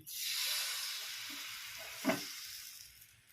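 Rice batter for soru chakli sizzles in a hot pan, a steady close frying hiss that fades slightly over time, with a brief clink or stir partway through and no talking.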